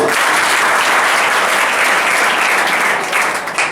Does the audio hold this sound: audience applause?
yes